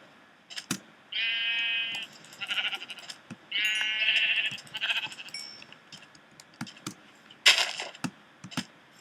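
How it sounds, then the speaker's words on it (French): Sheep in the Minecraft video game bleat in several repeated calls across a quiet grassland scene, with no talking and a few clicks from game actions in between. "Des moutons. Donc ça c'est la première chose qu'on va aller tuer là."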